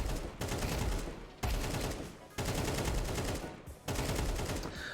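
Sustained automatic rifle fire in Counter-Strike 2 sprays body shots in four long bursts with short gaps, each a rapid, dense rattle of shots, loud and close.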